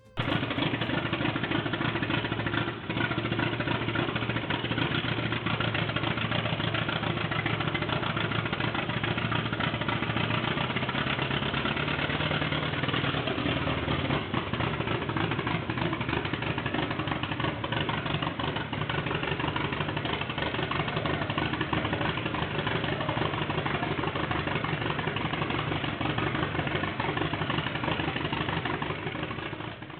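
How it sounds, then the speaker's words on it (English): A 13-liter four-cylinder Bugatti Type 5 racing engine runs steadily and loudly for the whole stretch, a dense, rough low rumble with a continuous mechanical clatter and no talk. "that sound you heard is a 13-liter four-cylinder Bugatti Type 5 engine"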